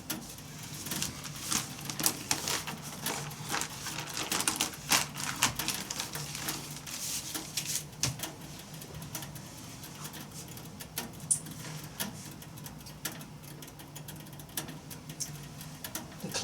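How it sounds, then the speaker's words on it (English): A thermostat-cycled heating element in a water bath for printmaking makes steady, faint, irregular clicking and clattering that continues quietly throughout with no talking. "Clattery sound, the clicking sound you hear, it's the heating element in the water going on and off."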